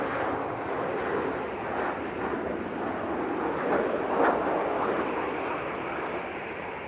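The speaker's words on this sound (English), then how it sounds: "That from Valencia. It's an Embraer." An Embraer jet from Valencia passes in the dark near Lisbon Airport, a broad steady roar mixed with wind buffeting at a clifftop spot, swelling slightly near the middle and holding at moderate loudness throughout.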